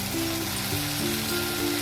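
Spices being cooked down in a pan for okra and tengra fish curry hiss and bubble after a splash of water goes in, a continuous close sizzle with faint tonal hums under it and no talking.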